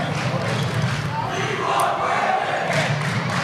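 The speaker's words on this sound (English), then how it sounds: "Crowd chanting, "We want Brandon,"" Crowd noise at a boys' high school basketball game, a dense, loud roar of many voices with a rhythmic, chant-like swell running steadily under the arena's ambience.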